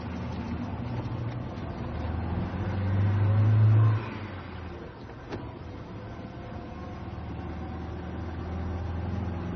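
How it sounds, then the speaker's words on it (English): A car drives off in a radio drama: the engine swells to a loud revving roar, then drops away abruptly to a lower steady rumble. "Right. Get in this car, Jock"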